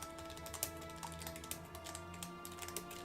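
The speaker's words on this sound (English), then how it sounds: "Who's typing?" Quiet, rapid typing on a computer keyboard, a run of light irregular key clicks over a background hum, with no talking.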